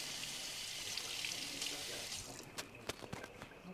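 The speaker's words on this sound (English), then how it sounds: "Rinse this off." Something is rinsed under running water at a kitchen sink during a cooking class: a soft, steady hiss of flowing water for about two seconds, then a few light clinks and taps as the water stops.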